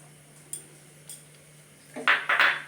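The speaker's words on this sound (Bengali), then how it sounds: "আমি গ্যাসেতে কড়াইটা বসিয়ে নিয়েছি এরপর আমি এর ওপর সাদা তেল একটু দিয়ে দিলাম" A kadai wok is set on a gas stove for cooking paneer with a splash of white oil: a couple of faint ticks, then a short burst of metallic clatter and clinks close by over a low, steady hum.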